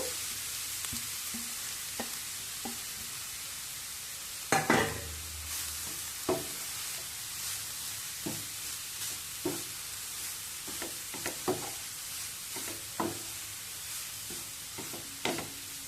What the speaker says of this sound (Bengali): ঘি গরম হয়ে গেলে এর মধ্যে গ্রেট করা গাজর দিয়ে দেব।